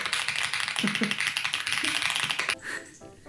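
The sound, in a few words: mechanical keyboard typing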